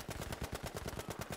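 Rapid automatic gunfire from a weapon in the video game Battlefield V, a steady burst of about a dozen close, loud shots in quick even rhythm with no talking.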